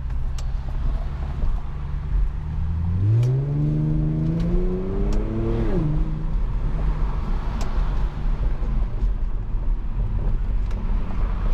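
A car fitted with a custom aftermarket exhaust, recorded from inside with the windows down, climbs through the revs in a loud rising engine sweep that then drops back to a steady drone over constant road and wind noise.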